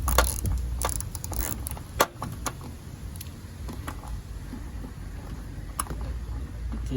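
A 10 mm bolt is worked loose on a car door, producing scattered faint mechanical clicks and a few sharper metallic taps over a low background rumble.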